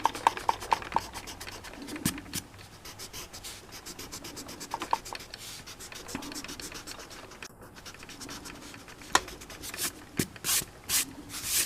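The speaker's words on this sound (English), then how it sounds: "Now I can erase this right down here. So I'm wobbling the whole table." An eraser scrubs across paper on a drawing table, making repeated dry scratchy rubbing strokes in uneven bursts, with occasional knocks and faster scrubbing near the end.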